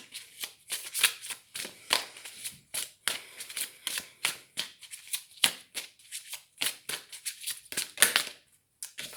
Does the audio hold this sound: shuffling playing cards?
yes